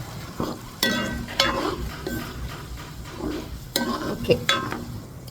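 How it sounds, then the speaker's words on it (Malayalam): Homemade Lakshadweep hair oil stirred in a pan over a low flame, scraping and clinking strokes of a spoon against the pan repeating irregularly, with a faint sizzle underneath. "കുറച്ച് സമയം കൂടി ഒന്ന് ഇളക്കി കൊടുത്താൽ മതി ലോ ഫ്ലെയിമിൽ"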